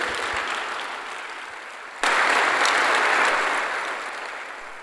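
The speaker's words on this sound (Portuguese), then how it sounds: "Dá um aplauso a Jesus." A congregation at a pastors' gathering claps steadily, then the applause jumps sharply louder halfway through and stays as a dense, sustained wash of many hands before tapering slightly.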